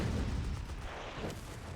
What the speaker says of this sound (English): Oh, nice grenade exchange.